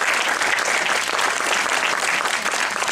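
A large audience applauds continuously at a film premiere of Väter und andere Katastrophen in Stuttgart's Metropol cinema: a dense, loud, even wash of clapping with no break.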